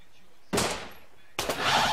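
Gunfire in the survival video game Rust: two sharp, loud bursts of shots, the first fading off and the second following a moment later.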